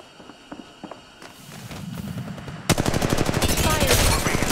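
Rapid automatic gunfire in the battle royale video game Apex Legends erupts loud and continuous partway through, following quieter footsteps and scattered movement sounds.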